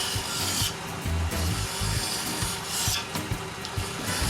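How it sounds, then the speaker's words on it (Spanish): A flat file rasps across the surface of cured epoxy putty in short, repeated back-and-forth strokes, a close, gritty scraping with brief pauses between passes. "Yo le saco las pequeñas muescas que a veces dejan las herramientas con una lima plana."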